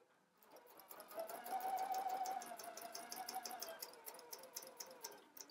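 A sewing machine runs a dart in one smooth, close burst, rising to a steady hum and then slowing toward the end of the seam.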